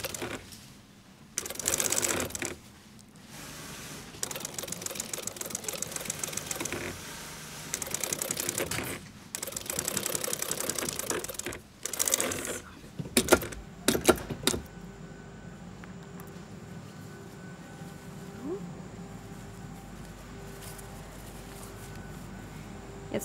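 A sewing machine stitches parachute fabric in rapid mechanical bursts of varying length, stopping and starting repeatedly with short pauses, close and clear, before settling into a quiet hum.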